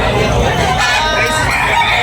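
A red gamecock at a busy rooster market in Tabunok, Talisay, Cebu crows over a constant murmur of crowd noise, the call steady and fairly close.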